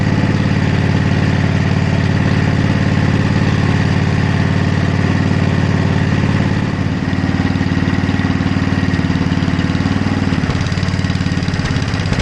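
A Sears ST10 garden tractor engine idles steadily with a poorly adjusted air-fuel mixture, giving a loud, continuous low drone with a slight dip in its note partway through, with no talking.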